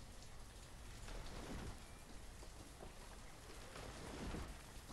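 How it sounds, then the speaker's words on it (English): Rain in the Banished video game falls as a steady, dense patter, soft and constant throughout with no voices. "Horrible weather, it's raining."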